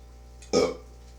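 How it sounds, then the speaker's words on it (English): A single loud, throaty beer belch erupts briefly and stops, with near silence around it. "Beer belch."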